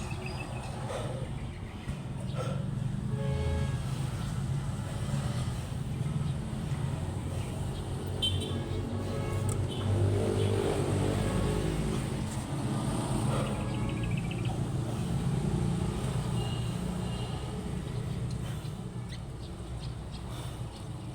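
A small engine on a motorcycle being kicked or cranked over and on the verge of firing, with a steady low rumble and sputtering throughout, and faint birds or insects in the background.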